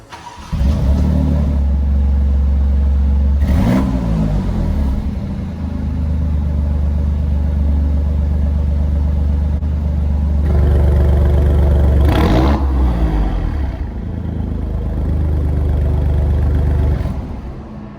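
An Alfa Romeo Quadrifoglio engine with an exhaust valve controller idles with a deep rumble, then revs sharply twice, each blip roaring up and settling back to a throbbing idle.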